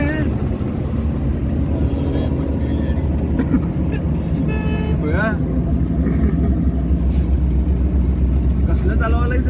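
A car engine drones steadily as the vehicle drives fast at night, with constant road and wind rumble and people talking over it inside the cabin.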